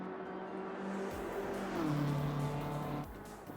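BMW M4 race car engine in a racing video game at Paul Ricard, a steady mid-pitched drone that briefly drops in pitch around an upshift, then cuts off near the end; no talk.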